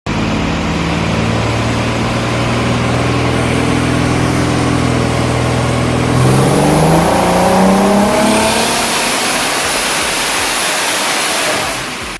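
Toyota MR2 with a turbocharged 3VZ V6 roaring loudly and steadily, then climbing in pitch under hard acceleration as a rushing whoosh of air builds, with no voices.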